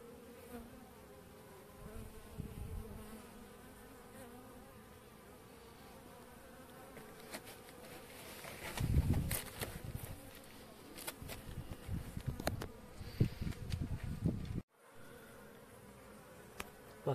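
A small honeybee colony that has left its hive hums and buzzes close by, a continuous drone that swells louder in the second half with passing bees flying near, then drops abruptly.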